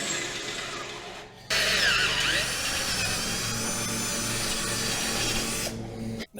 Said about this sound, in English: I'm gonna drill these out to a 1/4 inch, and then I'm gonna use a unibit to bore them out to 1/2 inch